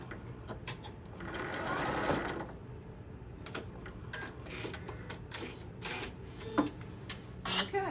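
Sewing machine back stitching a seam on a tote bag, a close mechanical run with a louder burst of stitching, then scattered clicks and short bursts as the fabric is turned.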